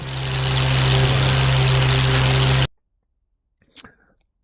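Aircraft engine in the DCS flight simulator game running as a loud, steady broadband roar with a low droning hum that cuts off abruptly partway through, followed by near silence and a brief faint click.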